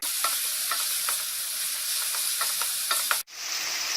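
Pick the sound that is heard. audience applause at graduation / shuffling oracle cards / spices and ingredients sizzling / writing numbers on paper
spices and ingredients sizzling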